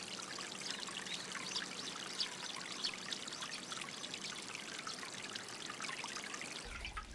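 Water runs steadily along a channel through a Japanese satoyama village, a close, continuous trickling and pouring stream with a bright splashy texture and no voices.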